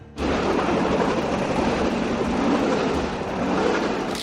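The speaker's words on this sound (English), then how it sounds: "a basic motor pushing you down the track at around 25 miles per hour" Open bamboo platform train in Cambodia, pushed along the rails by a small gasoline motor at about 25 mph, producing a steady, loud rumble and rattle of engine and track that runs unbroken from start to end.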